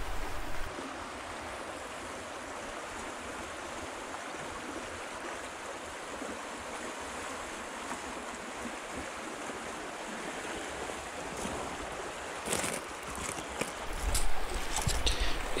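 A river flowing beside a desolate hillside bottle dump, a steady broad rushing wash of water that holds constant throughout, with a few brief rustles and knocks near the end.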